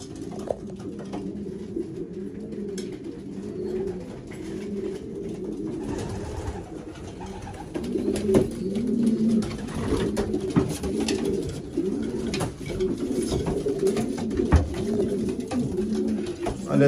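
Racing pigeons in a London loft coo in overlapping, throaty rolling calls that build and grow louder toward the end, heard close by and continuously, with no talk.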